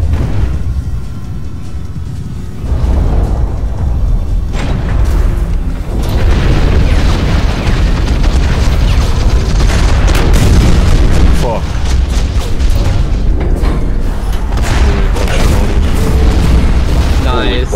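Heavy booming blasts and bursts of a heat cannon and other weapons from the mech combat game Hawken, with repeated loud explosions and dense battle noise over about eighteen seconds, mixed with a voice.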